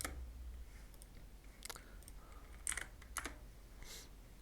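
Quiet typing on a computer keyboard, with a handful of sparse key clicks and taps spread out over a faint background hiss and no talking.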